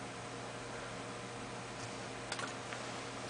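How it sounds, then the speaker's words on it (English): A few faint clicks of computer keyboard keys sound briefly near the end of an Arduino electronics session, heard against a steady hiss of room and fan noise. "So let's give some character input from the keyboard again."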